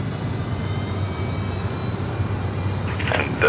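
Pilatus PC-24 business jet at Sydney Airport, its steady engine roar holding close and loud throughout with a low rumble, brief faint chirps near the end.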